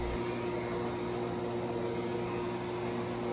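A Neakasa P1 Pro pet grooming vacuum sucks cat fur into its container, giving a steady, even motor whine and airflow hiss that stays constant and close throughout.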